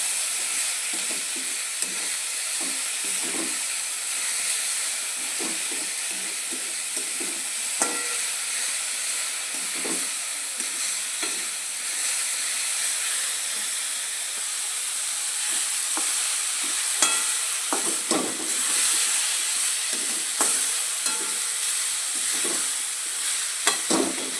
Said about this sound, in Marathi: तर मीठ आणि हळदला व्यवस्थित परतून मिक्स करून घेऊया त्याला.